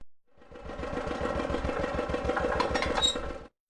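A cartoon tractor engine in a children's educational game starts and chugs for about three seconds, a low rhythmic putter with a bright tone near the end, then stops.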